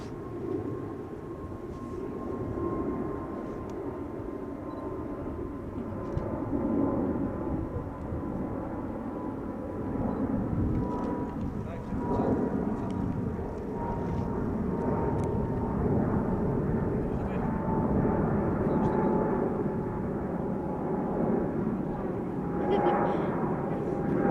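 A China Southern airliner passes over Amsterdam Schiphol Airport as a steady, broad engine roar with a faint high tone. The roar holds under chatter and stays at moderate distance throughout.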